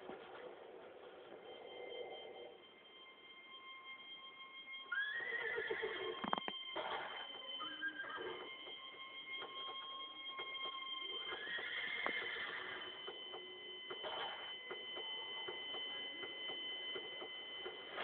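A horse neighs and whinnies several times over a long stretch, mixed with hoof clatter and thin, tinny sustained tones, all heard fairly quietly and with no talking.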